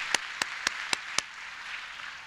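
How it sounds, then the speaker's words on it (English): Five sharp, evenly spaced claps at a college graduation ceremony, fairly faint and isolated, then fading into quiet room tone with no talk. "It's a good opportunity to clap."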